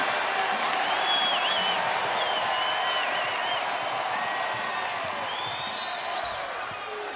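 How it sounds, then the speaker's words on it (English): A basketball arena crowd at Baylor's Foster Pavilion stands cheering and applauding in a steady, dense roar, with scattered whistles and whoops rising above it as the noise slowly fades near the end. "The crowd on their feet, and for good reason."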